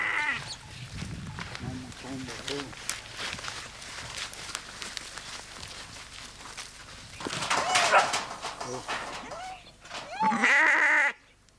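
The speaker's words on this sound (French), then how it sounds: "Alors je crois que cette chèvre sait ce qui l'attend. Et donc elle n'est pas très contente, normal." Goat in rural Mexico about to be slaughtered, bleating loudly and repeatedly in strained cries, with people talking nearby between and over the calls.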